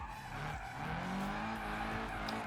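A car drifting in BeamNG.drive, tires squealing in long sliding tones over a low engine drone, the skid rising and bending in pitch as the slide holds, fairly quiet and continuous with no talk.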